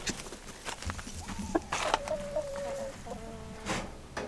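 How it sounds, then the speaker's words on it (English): An Australorp rooster makes low clucks and short throaty calls close by, with faint rustling and outdoor background noise between them. "so let's meet the new Rooster. He's beautiful."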